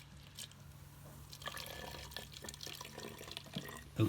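Vinegar trickles and splashes into a toy rocket being filled with liquid fuel, a steady close pouring and dripping sound at low level, with a few louder splashy moments near the end.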